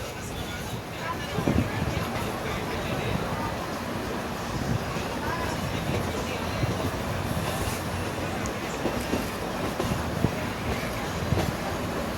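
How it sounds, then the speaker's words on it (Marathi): Steady rumble and clatter of a train rolling slowly into Gangakhed railway station, with wind noise and faint voices in the background throughout. "आता आपली ट्रेन जी आहे तर गंगाखेड रेल्वे स्टेशनमध्ये एंटर केलेली आहे"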